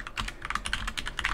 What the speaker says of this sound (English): I'm trying to walk and I'm typing wada wada wada